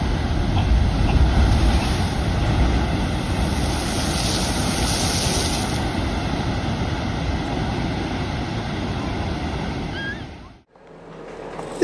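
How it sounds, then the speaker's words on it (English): Heavy North Atlantic winter storm waves crash against a lighthouse, a loud, continuous roar of surf and blustering wind noise on the microphone that cuts off abruptly near the end. "Instead of taking a direct hit on a flat surface, the waves are dispersed, significantly reducing the impact's force."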